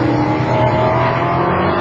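A Ford Falcon touring car races at Phillip Island in the 1994 Australian Touring Car Championship, its engine a loud, close, sustained roar that holds steady throughout.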